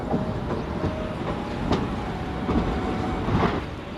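A WAP7-hauled Itwari to Bilaspur superfast Intercity Express rolls along the rails with a steady, loud rumble and faint wheel clicks, heard from on board and without any talk.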